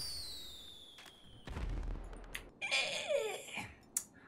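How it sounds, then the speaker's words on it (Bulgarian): Fireworks going off outdoors in daylight, heard as a few sharp pops and crackles followed by a whistling, fizzing burst, moderately distant and fairly faint. "Ще изпратиме малко заря."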